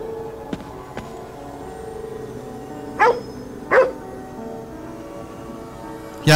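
A dog in the video game Ghostwire: Tokyo barks in short, sharp bursts: two close together, then a third a few seconds later, over a low steady ambient backdrop.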